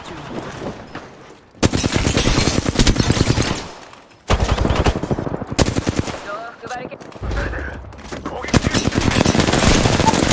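Rapid bursts of automatic gunfire and shots from an Apex Legends match, loud and dense, repeating in long volleys with brief pauses, with faint game voice cues underneath.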